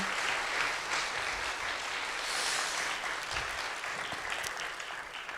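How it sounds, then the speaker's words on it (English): Applause from an audience at a youth leaders summit session, honoring the speakers: dense, steady clapping from many hands that holds at an even level for several seconds and fills the room without any voices over it. "I think they deserve one more round of applause, everyone."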